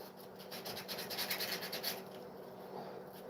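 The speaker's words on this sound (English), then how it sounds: "I only got a couple more little seconds of sanding on this one" Rhythmic sanding strokes rasp back and forth across a fiberglass door, close and steady, then ease off into lighter scraping.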